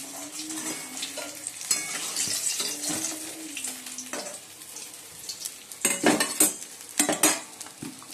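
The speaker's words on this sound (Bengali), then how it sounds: "আলু ভেজে বাঁধাকপি বসিয়ে দিয়েছি, কড়াইশুঁটিও দিয়ে দিয়েছি" Cabbage, potatoes and peas frying in a kadai, a soft sizzle under clattering stirs and scrapes of a spatula against the metal pan, with louder bursts of clinking near the end.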